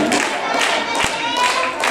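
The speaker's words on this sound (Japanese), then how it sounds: "拍手が、一つのね、大きな音楽となっておりますが" A crowd claps in steady unison at an outdoor Christmas yosakoi dance event in Hasuda, a dense, loud, rhythmic pulse of many hands.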